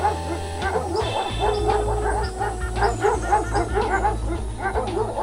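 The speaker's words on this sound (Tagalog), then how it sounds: "Narinig ko yung mga tahol ng madaming aso." Several dogs bark and yip over one another, some high and whining, in a busy overlapping chorus at moderate distance, with a low hum underneath.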